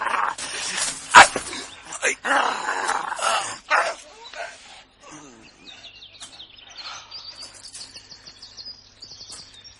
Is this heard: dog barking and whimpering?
yes